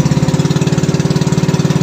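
A small engine runs steadily up close with a fast, regular pulsing chug, loud and continuous with no voices.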